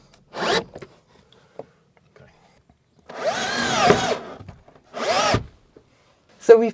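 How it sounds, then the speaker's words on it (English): A power drill drives screws into the side of a camper van in several loud, close bursts, each with a rising and falling whir, separated by short pauses. "So we've put the 4 screws in the sides."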